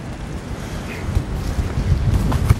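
Wind gusts on an open hilltop, buffeting the microphone in a steady low rumble that swells slightly toward the end, with no voices.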